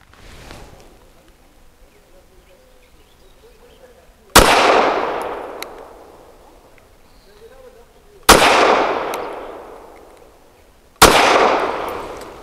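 Three loud, close gunshots from a Walther WMP rimfire pistol firing Varmint load ammunition crack out outdoors several seconds apart, each with a long decaying echo, while a person talks quietly between shots.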